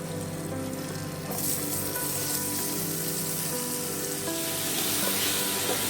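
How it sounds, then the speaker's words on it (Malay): Onions hit hot melted butter for French onion soup, the sizzle swelling suddenly about a second in, then holding as a loud, steady crackling hiss without speech. "bila mentega ni dah cair dan panas, kita masukkan bawang"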